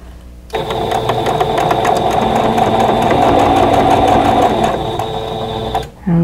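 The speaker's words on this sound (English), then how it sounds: "now we're going to sew this seam" A sewing machine runs continuously for about five seconds, stitching a seam on a quilt block, its loud, even mechanical whir starting and stopping abruptly.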